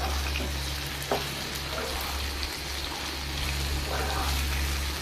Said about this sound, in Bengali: এরপরে মেখে রাখা করলাগুলো দিয়ে দিলাম করলাগুলো দিয়ে এইভাবে নেড়ে নিতে হবে